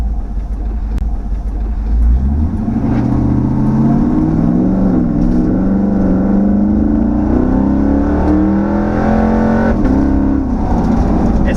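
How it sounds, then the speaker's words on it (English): A car with a swapped L83 Gen V engine and stage 2 cam runs loud and steady, its low exhaust note rising and shifting through a lumpy throttle change before settling back, with no voices. "I got the stage 2 cam really dialed in. I have it idling at about 700 RPM."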